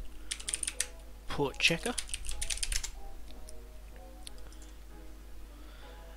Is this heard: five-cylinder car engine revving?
no